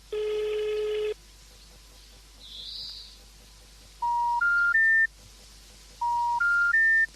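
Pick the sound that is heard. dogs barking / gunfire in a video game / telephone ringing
telephone ringing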